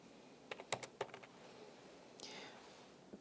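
A computer keyboard clicks in a short burst of close, quiet keystrokes while accounting entries are typed in, then a faint rustle follows and one last tap comes alone.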